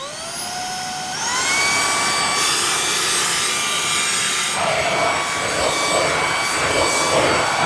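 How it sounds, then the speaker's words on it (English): A Shark Ninja IONFlex DuoClean cordless vacuum switches up into ion boost mode, its motor whine rising in pitch and loudness after a second, then holding a strong steady high drone with rubbing brush noise beneath. "And now we're gonna do the ion boost mode."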